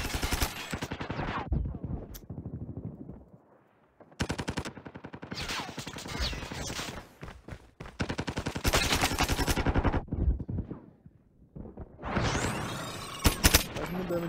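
Bursts of rapid gunfire from the mobile shooter Call of Duty Mobile, loud automatic volleys separated by short gaps, with a few sharper single shots near the end.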